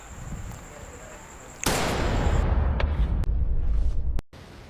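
A single loud gunshot in a Squid Game scene, a sharp blast followed by a sustained noisy rumble and a few later clicks and cuts, set against a dramatic soundtrack.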